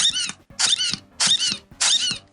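A Disney Store Wheezy penguin plush from Toy Story, its squeaker broken so it wheezes, is squeezed four times in a steady rhythm, each press giving a loud, close, breathy squeak.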